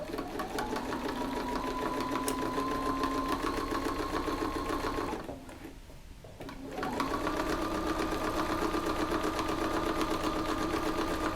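Sewing machine running a steady, rapid stitch while stitching in the ditch along a quilt seam, with a brief pause midway before the even mechanical whir resumes, close and clear with no talk.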